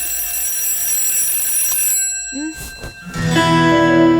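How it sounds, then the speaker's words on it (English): An alarm clock rings loudly in a steady, continuous electronic tone, then cuts off and gives way to shuffling and other room sounds. "your daughter has set an alarm for the street or her own self."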